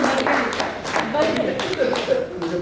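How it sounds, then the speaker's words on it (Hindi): Applause from a school batch reunion gathering, a dense patter of hand claps close by, with voices talking over it. "ये जोर से तालियां।"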